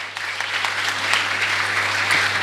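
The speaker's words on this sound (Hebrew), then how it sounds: "איפה מחיאות הכפיים לכל הצדיקים?" Brief burst of audience applause for the righteous at a Hebrew religious talk by a rabbi, dense clapping rising quickly and holding steady with faint voices behind it.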